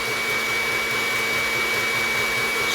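A stand mixer beating heavy cream and sugar gives off a steady, even motor whir with a constant hum, close and unbroken, with no talk.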